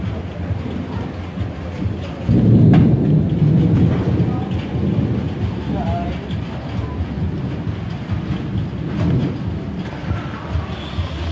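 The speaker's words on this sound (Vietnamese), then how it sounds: "Ôi mưa dày quá." Heavy rain falls in a loud, dense roar on a rooftop terrace full of bonsai trees, with a deep thunder-like rumble swelling partway through and no speech over it.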